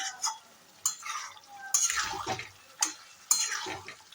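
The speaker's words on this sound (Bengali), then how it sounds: "এবার আমি ফুলকপিগুলো এর মধ্যে মিক্সচার করে দেবো" A spoon stirs cauliflower into a spiced vegetable curry in a pan, making several distinct scraping strokes with a soft simmer between them and no speech.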